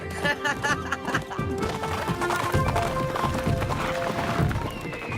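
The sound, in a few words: galloping horses in a cartoon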